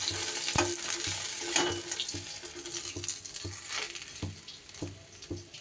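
Rui fish frying in hot oil in a pan, a crackling sizzle with irregular sharp pops and spatters, close and fairly quiet with no talking.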